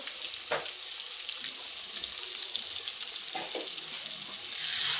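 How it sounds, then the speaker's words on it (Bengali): Tawa paneer sizzling and being stirred on a hot griddle, sprinkled with coriander leaves: a steady close frying hiss with a few sharp spatula scrapes and a louder burst of sizzle at the end, no talking. "নাড়াচাড়া করে নামিয়ে নিলে হয়ে গেল তাওয়া পনির।"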